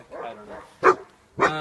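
A dog barks twice in sharp, loud close barks after a few softer whimpering yips, with a person's brief speech at the start, inside a tiny house under construction.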